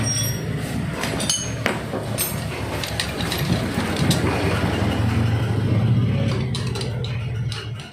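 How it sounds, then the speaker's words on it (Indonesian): A socket wrench with an 8 mm socket tightens M6 bolts on a Mio scooter engine, giving a run of light metallic clicks and clinks over a steady background hum. "kita pasang kedua baut sisinya menggunakan M6 seperti ini dengan mata kunci 8 sok kita ya"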